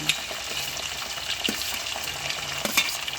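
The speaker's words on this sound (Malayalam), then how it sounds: "പിന്നെ തക്കാളി ഇഞ്ചി ഇടുകയാണ് കേട്ടോ." Tomato and ginger fry in a hot pan with a steady, close sizzle, punctuated by a few sharp stirring scrapes and clinks, with no talk.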